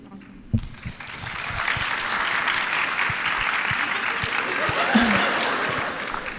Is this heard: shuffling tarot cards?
no